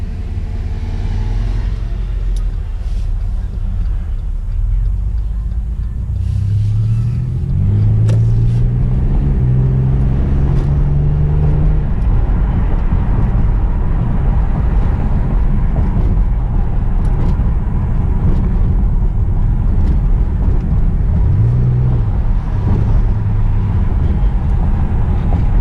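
A 2006 Chevy Impala with a 3.9L engine runs steadily, then revs up in a few rising surges before settling into a continuous, close rumble, with another brief rev near the end; no one speaks.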